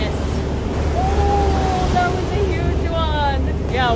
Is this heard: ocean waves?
yes